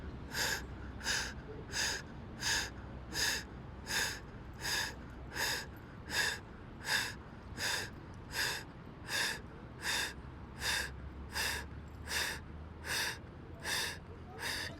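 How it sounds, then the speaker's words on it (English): Breath of fire yoga breathing held in elbow plank, with about twenty sharp, forceful nasal exhales in a steady rhythm roughly every three-quarters of a second, close and clear, with no speech. "So ground your elbows and breath of fire."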